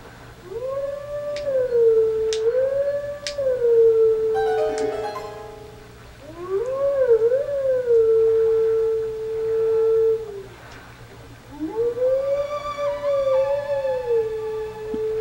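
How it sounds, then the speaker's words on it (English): Wolf howls in the Zelda: Twilight Princess video game, three long, loud, wavering howls in a row with brief pauses between them, heard alone over a low steady game hum. "And howl!"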